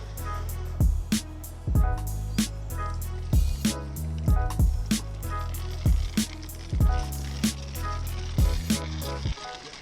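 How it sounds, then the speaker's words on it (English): Bleach, water and rice are emptied out of a windscreen washer bottle, giving loud, close gurgling glugs and sloshing with repeated rhythmic splashes over continuous pouring. "when we empty out our cleaning solution now, all that dirt and grime should come with it"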